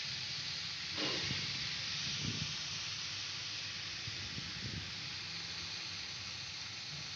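A vegetable curry simmers in a pan over a low flame, giving off a steady, soft hiss that holds evenly throughout with no voices.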